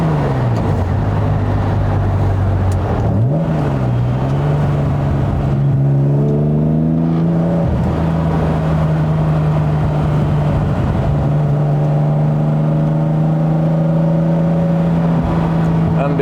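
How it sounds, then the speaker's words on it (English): An Aston Martin DB4 engine revs and drops in pitch repeatedly during heel-and-toe, double-clutch downshifts, with a steady low drone and rising harmonic sweeps, close and loud throughout. "rev the engine with my edge of my right foot, push the clutch down"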